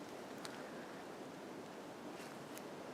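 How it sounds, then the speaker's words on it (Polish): Steady, soft broadband rushing of wind through trees in a quiet forest in Fiordland National Park, New Zealand, continuous and even, with a couple of faint high rustles; no voices. "Jest tu tak spokojnie i cicho, tylko słychać wiatr."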